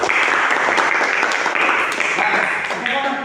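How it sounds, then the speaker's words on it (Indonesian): A classroom of schoolchildren applauds a student group, producing a dense, lively burst of clapping with young voices mixed in, tapering slightly near the end. "Tepuk tangan untuk nomor 3."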